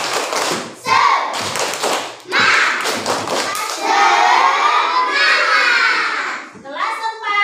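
Fourth-grade schoolchildren in a classroom perform a patterned spirit clap with sharp group claps and thumps, interleaved with their loud chanting voices in a rhythmic call-and-response.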